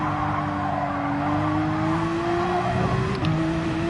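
A Porsche GR4 race car in Gran Turismo 7 on the Tokyo Expressway South track, engine droning steadily as its pitch climbs through a gear, with a brief tire squeal near the end.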